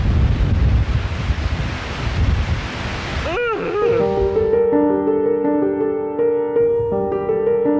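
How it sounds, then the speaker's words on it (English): Loud wind buffeting the microphone with roaring gusts in woodland, then cutting off as tonal music takes over. "getting really windy."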